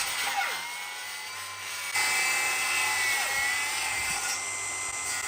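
Milwaukee 18V Fuel Sawzall cordless reciprocating saw running steadily at close range, a continuous high-pitched motor whine that jumps louder partway through and holds without any voices.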